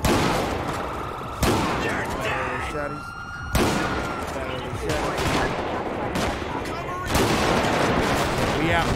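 Gunfire in GTA V comes as repeated loud bursts that recur every couple of seconds amid a constant din of shooting, with a siren-like wail running underneath and a voice briefly speaking.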